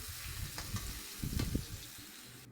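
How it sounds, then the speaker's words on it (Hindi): Chopped onion, one medium-sized, frying in a pan until golden, giving a soft, quiet sizzle with a few brief stirring scrapes and no voices. "प्याजों को हम सुनहरा होने तक भून लेंगे।"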